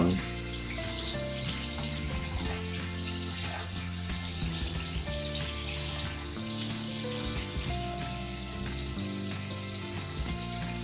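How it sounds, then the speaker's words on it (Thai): Shiitake mushrooms stir-fry over high heat with soy sauce in a pan, giving a steady bright sizzle that runs the whole time beneath loud background music. "ผัดจนมันสุกนะครับ"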